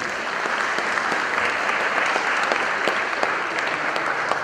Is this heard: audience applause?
yes